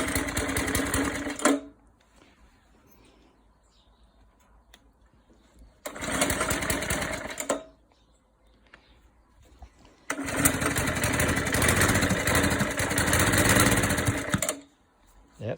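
A Suffolk Super Punch 17-inch lawn mower engine runs in three separate bursts, loud and steady, with quieter gaps between them as the throttle is worked.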